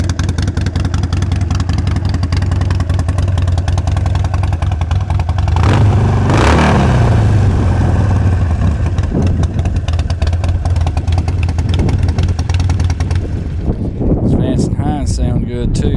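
A Harley-Davidson Sportster 72 XL1200V V-twin motorcycle idles with a loud, close, loping rumble throughout, briefly revving midway, while someone talks over it.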